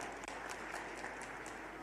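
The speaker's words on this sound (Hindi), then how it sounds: "जोरदार ताली माननीय नरेंद्र मोदी जी के लिए बजाएं एक बार" An audience at a political rally in Madhya Pradesh bursts into sustained applause, a dense, continuous crackle of many hands clapping at close range that fills the whole stretch.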